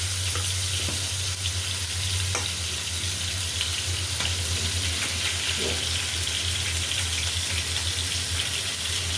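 Hilsa fish pieces sauté in a hot pan of oil, giving a loud, continuous sizzle with occasional scraping clicks from stirring and no talking.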